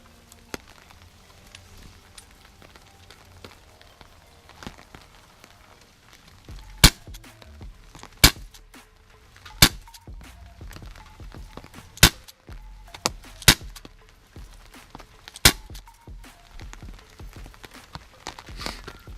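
A KJW MK2 airsoft pistol fires a series of sharp, isolated snaps, roughly a dozen shots spaced a second or two apart, over a quiet rustling background with faint ticks between shots.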